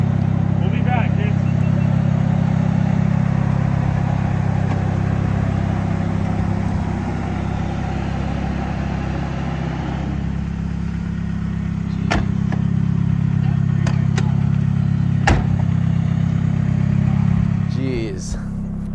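A 1970 Datsun 240Z fitted with an SR20DET engine pulls along a freeway, its steady, loud low engine drone filling the cabin throughout, with a few sharp clicks and knocks near the end.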